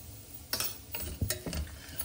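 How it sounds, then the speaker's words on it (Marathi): Masala rice with goda masala, salt and spices being stirred in a pan: soft scrapes and a few clinks of a spoon over a faint sizzle, close and quiet, with no talking. "आणि हे सगळं पुन्हा आपण छान ढवळून घेणार।"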